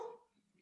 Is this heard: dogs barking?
yes